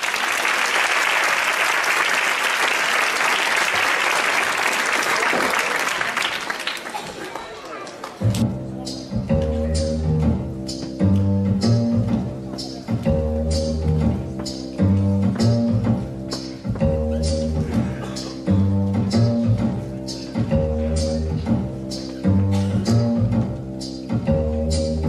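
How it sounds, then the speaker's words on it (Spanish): An audience at a magic gala in Leganés breaks into loud, dense applause that fills the first several seconds, then fades as steady rhythmic music takes over. "recibimos nuevamente con un fuerte aplauso a Lautaro"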